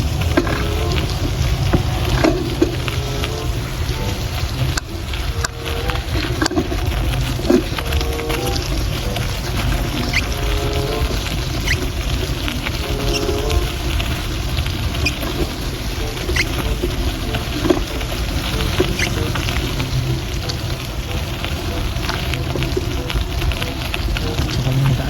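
Steady all-day rain falls in Smoky Lake, Alberta, Canada, a dense continuous patter with occasional louder drips and taps close by, unchanging throughout without any talking.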